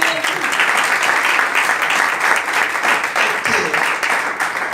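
A church congregation applauding, a steady loud wash of clapping that holds evenly throughout with faint voices mixed in.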